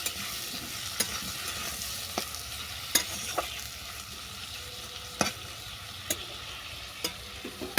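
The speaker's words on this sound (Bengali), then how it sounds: "এই সমস্ত উপকরণ নেড়ে ছেড়ে আমি একটা দিয়ে ঢেকে দেবো তিন মিনিটের জন্য" Spiced spiny gourd curry gets stirred in a pan, with a soft frying hiss underneath and irregular spatula scrapes and knocks against the pan every second or so, close and moderately quiet.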